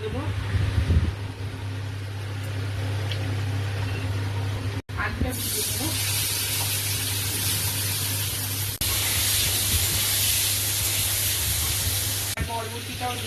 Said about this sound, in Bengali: একটু ভেজে নেব আলু বরবটি